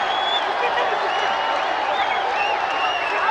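A stadium crowd at a Bangladesh versus Bhutan women's under-20 football match cheers and applauds a hat-trick goal. The noise is a steady, dense roar of clapping and shouting with whistles and high cries rising through it, and a voice may sound faintly beneath.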